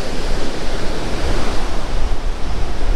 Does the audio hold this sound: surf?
yes